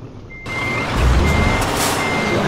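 A truck in Euro Truck Simulator 2 sounds steady, loud reversing beeps as a single sustained tone over a low engine rumble that swells slightly as it backs up.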